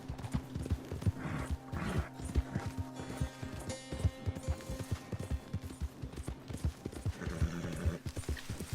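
Horse hooves clip-clopping in Red Dead Redemption 2, with a steady rapid rhythm of hoof strikes, an occasional whinny, and in-game music and ambience underneath.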